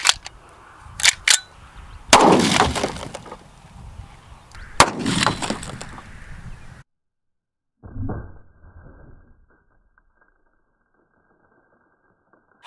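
A .44 Magnum Desert Eagle fires into a cinder block and splits it, a sharp, loud outdoor report with a ringing tail, then another burst of impacts before the sound cuts away to near silence.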